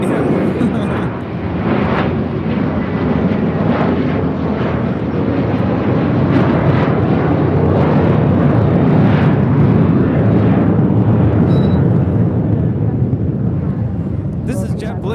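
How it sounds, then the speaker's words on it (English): JetBlue Airbus A321 taking off from LAX, bound for Miami: a steady, broad jet engine roar that holds loud for the whole stretch, with voices talking faintly over it. "This is JetBlue 2785 taking off to Miami, Florida on an A321."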